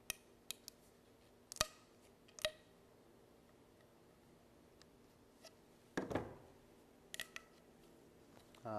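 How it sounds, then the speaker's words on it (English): Snips cutting through PVC pipe while building a PVC recorder: a few sharp crunching snips and clicks spaced across the span, one heavier cut near the middle, with quiet handling noise between. "I'm going to just take the snips and"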